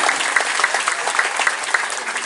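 Dense, lively applause from a group of people clapping for junior high school students reciting Pancasila, a continuous patter of many hands close by with no talking.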